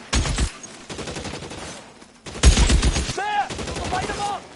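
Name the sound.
gunfire in the video game L.A. Noire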